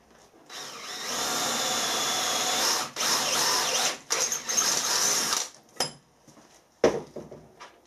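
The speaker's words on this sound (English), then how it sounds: "First thing to do is drill this so I can put some clamp bolts in" A power drill drilling through a metal motorcycle fork yoke whines steadily for several seconds, close and loud, then stops and starts in short bursts before a final clunk.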